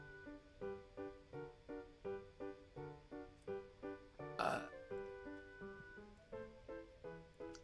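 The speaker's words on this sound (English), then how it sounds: "Kind of a weak burp, honestly." A single short burp breaks in once, loud and close, over a steady rhythmic pattern of repeating tones.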